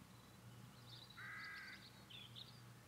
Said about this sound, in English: That's a crow.